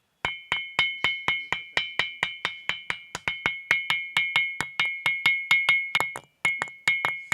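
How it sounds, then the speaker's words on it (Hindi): The seventh musical stone is struck in a quick, steady run of blows, each giving a clear ringing bell-metal tone that decays briefly, about twenty-five evenly spaced hits with one short pause, close and alone. "ये इसमें फूले की आवाज़ है।"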